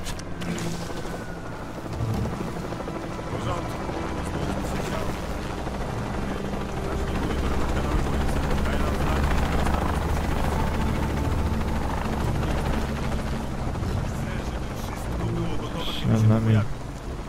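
A helicopter in the Shadow of the Tomb Raider video game produces a steady, rumbling rotor drone that swells slightly as it passes over, mixed with game ambience and muffled voices.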